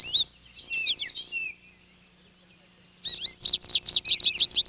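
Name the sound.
goldfinches chirping at backyard feeder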